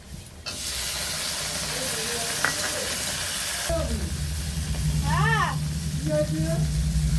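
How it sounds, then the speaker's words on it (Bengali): Chopped onions and tomato fry in a pan for a light chicken curry, giving a continuous close hiss and sizzle that swells as more goes in, with a voice briefly heard. "পেঁয়াজটা একটু লাল লাল ভাজা হয়ে গিয়েছে"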